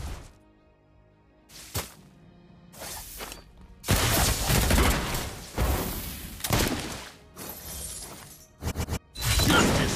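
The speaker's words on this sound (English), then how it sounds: "Your team destroyed a turret." Turret destruction in the mobile arena game Captain of the Reefs: bursts of shattering crashes and thuds, loud and close, with several abrupt impacts stacked over about ten seconds.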